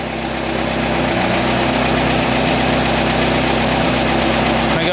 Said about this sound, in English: My idle is now down to about 960.